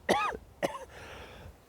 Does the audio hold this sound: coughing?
yes